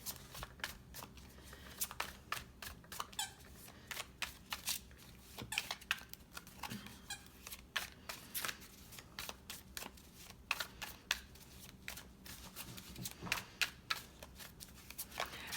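Tarot cards are shuffled by hand in a quiet room, a rapid series of crisp riffling snaps and soft slaps coming in uneven bursts, close and fairly faint.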